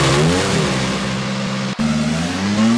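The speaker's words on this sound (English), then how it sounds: "Gentlemen, start your engines." Race car engines in the CART Flag to Flag Dreamcast racing game whine and rev at a steady pitch, dip briefly for a gear change, then climb again, loud and continuous.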